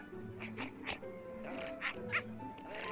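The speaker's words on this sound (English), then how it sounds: "Got some fine puppies here." Puppies yip, whimper and bark in the Minecraft Story Mode video game, several short high cries overlapping with faint background music.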